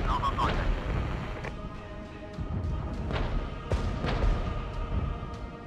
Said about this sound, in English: more mortars from over here again